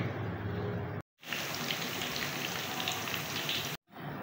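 Steady crackling sizzle of garlic and onion frying in hot oil, close and even, cut by two brief moments of silence.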